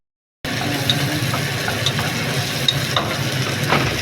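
Crushed garlic sizzles and crackles in hot oil for a lasagna red sauce after a brief silent start, a steady close-up frying hiss with occasional light stirring taps.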